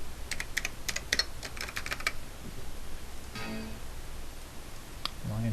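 Quick bursts of clicking keys as a password is typed on a computer keyboard, a rapid run of taps then a few isolated presses, close and clear with a quiet room behind.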